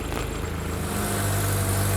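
A car engine idles steadily below 1,000 RPM during a 1980s tune-up. The low, even rumble holds close and continuous with a constant hum, and no one speaks over it.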